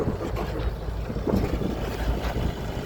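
A boat motor runs steadily on a fishing outing, a close, continuous low rumble with wind buffeting the microphone and no voices.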